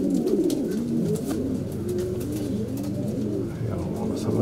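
Racing pigeons coo continuously in a loft, layered throaty rolling calls from several birds close by, with someone speaking indistinctly over them.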